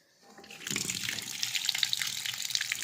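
Water gushes steadily from a tap, filling for washing clothes by hand at home, starting abruptly and continuing as a loud, close, even rush with no talking.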